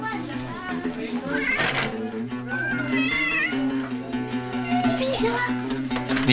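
A cat meows repeatedly while a boy pesters it, its drawn-out plaintive cries rising and falling over a steady background hum, with people talking nearby.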